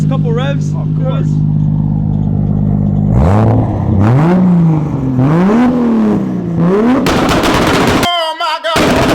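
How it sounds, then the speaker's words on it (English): A 900-horsepower Toyota Supra with anti-lag revs hard several times, its rising and falling engine roar loud and close, with sharp popping bangs mixed in and excited voices over it. "could you give us a couple revs?"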